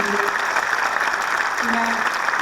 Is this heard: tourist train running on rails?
no